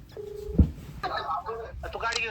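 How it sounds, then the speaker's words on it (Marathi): A phone call being dialed: a short tone, then a burst of quick keypad beeps and tones, with a voice speaking over parts of it. "थांबा फोन लावतोय"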